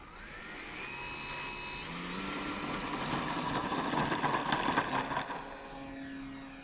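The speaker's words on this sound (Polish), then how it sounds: "Motor active." A PZL.23 Karaś model airplane's motor runs steadily, rising in pitch and loudness to a buzzing peak midway before settling into a constant whine, with no voices over it.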